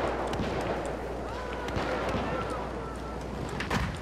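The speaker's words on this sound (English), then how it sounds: "A lot of fire coming from the left side. I can see them shooting at the tower." Gunfire in the video game Battlefield 4 crackles as a dense, steady wash of distant shots and blasts, with a few sharper bursts near the end and a voice talking over it.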